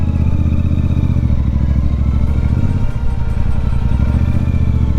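A car driving out of Pisa, Italy, its engine giving a loud steady low rumble with constant road noise from inside the cabin and a brief shift in tone midway, no talk.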